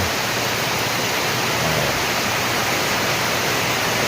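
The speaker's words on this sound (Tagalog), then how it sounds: "Sounds lang to ng ulan mga kaibigan" A thick, constant wash of heavy rain and wind, loud and even throughout, with no other sounds breaking through.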